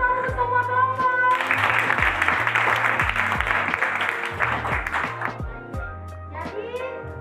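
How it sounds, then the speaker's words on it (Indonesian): Students in a ninth-grade class at an Islamic boarding school burst into applause for all the groups, a dense, loud clapping that swells for several seconds over a steady musical backing, then fades as voices return. "terima kasih tepuk tangan untuk semua kelompok"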